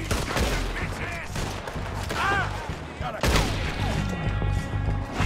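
Gunfire in Red Dead Redemption 2: a few sharp shots ring out amid steady game ambience, with someone talking over the action.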